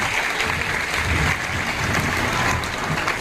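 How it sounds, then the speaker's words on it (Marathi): Students at a police commissioner's talk applaud together, a dense, steady burst of clapping that stays loud and even from start to finish. "सर्वांनी टाळ्या वाजवायच्या सर्वांनी"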